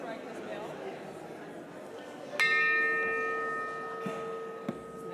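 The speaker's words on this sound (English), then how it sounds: "we're going to go ahead and strike this bell." A single bell is struck to open a Sunday church service and rings out clearly, then decays slowly with a long, even tone while soft murmuring from the congregation continues beneath it.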